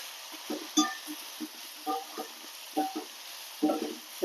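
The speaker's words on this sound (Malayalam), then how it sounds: "നന്നായിട്ടൊന്ന് വറുത്ത് കൊടുക്കാം" Okra fries in a pan with chilli powder and coriander powder: a steady soft sizzle runs under intermittent scraping strokes of a spatula, fairly close and with no voices.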